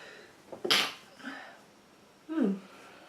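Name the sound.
sneeze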